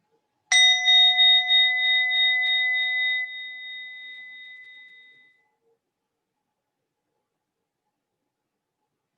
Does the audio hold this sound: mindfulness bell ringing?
yes